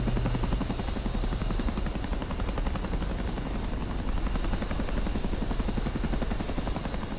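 A helicopter engine spools up in the DCS flight simulator, a constant loud whining drone with a fast rhythmic chop throughout, steady and near.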